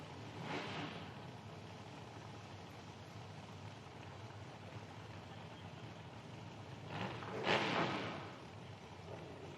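A drag racing car at an IHRA Outlaw Nitro Series Pro Am event lets off nitrous purges, heard as two brief hissing bursts a few seconds apart, the second louder, over steady wind and background noise.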